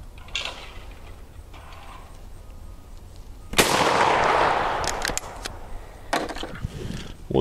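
Shotgun fired at clay targets, one loud close blast with a brief decaying tail, amid lighter clicks and handling noises.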